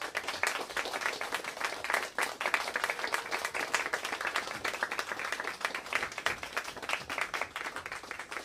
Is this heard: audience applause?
yes